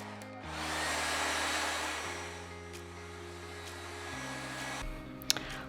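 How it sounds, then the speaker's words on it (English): A hair dryer blows steadily to dry a watercolor candy cane painting, a continuous airy roar that shifts in pitch as it changes speed, close and loud, ending with a couple of faint clicks. "we're going to go ahead and blow dry this"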